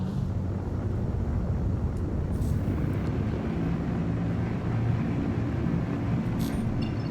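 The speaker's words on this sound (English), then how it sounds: "Alright, that's a fast takeoff." A Cutlass spaceship in the video game Star Citizen makes a fast vertical takeoff, heard as a steady, dense engine roar that holds at an even level throughout with no voices.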